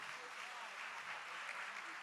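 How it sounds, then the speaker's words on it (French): Applause from a comedy festival audience in Mali, a steady wash of clapping heard from a distance for a couple of seconds. "Donc, pour la majorité des musulmans, applaudissez très fort."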